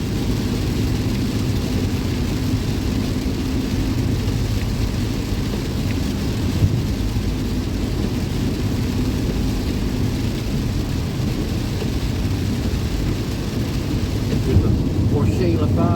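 Rain and rumbling thunder fill a rainy drive, a dense low roar with a steady wash of rain, loud and continuous throughout, with no talking.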